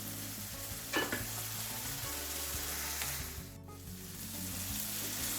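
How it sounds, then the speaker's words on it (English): Masala frying in a pan for an egg and potato curry, a dense, steady sizzle close up with occasional stirring scrapes and light clinks of the spoon, and no voices. "I'm gonna fry this masala."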